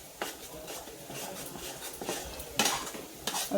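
A spoon scrapes and clinks against a kadhai while thick peanut barfi mixture is stirred, irregular metallic knocks and scrapes at close range, with a few sharper clatters near the end and no voices.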